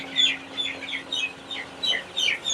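Chickens, apparently sick with a cold and Gumboro disease, cluck softly in quick repeated bursts over a steady low hum.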